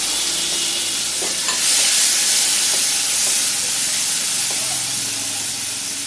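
Chopped tomato and chili powder frying in oil tempered with black cumin seeds, a steady loud sizzle and hiss with a few faint stirring scrapes, no voices.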